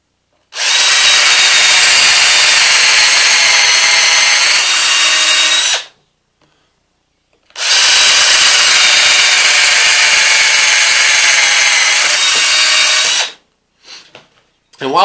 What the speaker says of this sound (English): So let me drill these 2 holes.